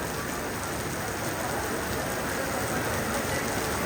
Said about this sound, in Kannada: ಅಮೃತ್ಸರ್ದಾಗ ಹೆವಿ ಅಂದರೆ ಹೆವಿ ಮಳೆ ಆಲಾಗತ್ತದ ಇಲ್ಲಿ